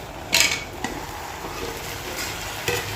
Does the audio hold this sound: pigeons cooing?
no